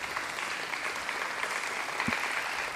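An audience applauds steadily at a school sports medal ceremony, a sustained wash of clapping from a crowd at moderate distance, continuing evenly throughout.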